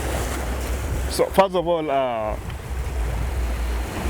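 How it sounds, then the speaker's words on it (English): Steady sea waves and wind roar along the shore, a constant loud wash of surf and gusts, with a person briefly speaking over it in the middle. "there's too much background noise from the sea"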